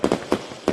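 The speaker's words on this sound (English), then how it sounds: "the fireworks are still going on" Fireworks going off over a Fourth of July weekend, four muffled bangs in quick, uneven succession, two close together, then a pause before the last, moderately loud and with no talk.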